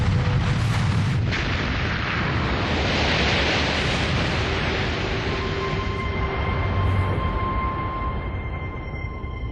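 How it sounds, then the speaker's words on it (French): A huge, sustained roar of broad rumbling noise with a sharp burst near the start, the massive explosion of the 2010 Eyjafjallajökull volcanic eruption in Iceland, no voices. "peu après, une gigantesque explosion survient."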